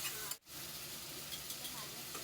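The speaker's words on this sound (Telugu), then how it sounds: "ఇప్పుడు ఇది ఈ విధంగా వేసేసి ఆయిల్లో బాగా ఫ్రై చేద్దాము" Half a kilo of chicken fries in oil for chicken pulao, a soft, even sizzling hiss throughout with one brief dip near the start.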